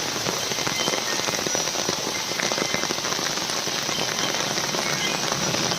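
Heavy rain pours down steadily and loudly, a dense unbroken wash of drops drumming on surfaces with scattered sharp crackles, as floodwater comes into a house.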